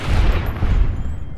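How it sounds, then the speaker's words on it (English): A gunshot fired at a giant mantis nymph's head in Fallout New Vegas: a dense, booming low-end blast that sustains and slowly decays over a second and a half, with no speech. "Let's shoot it in the head."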